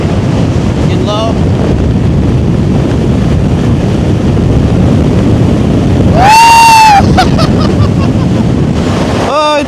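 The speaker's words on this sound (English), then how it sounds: "Oh, it's a fast scooter, that's for sure." A Gspace GS electric scooter on racing slick tires accelerates flat out with turbo engaged; heavy wind buffeting roars throughout, and a rising electric motor whine sweeps up briefly near the end.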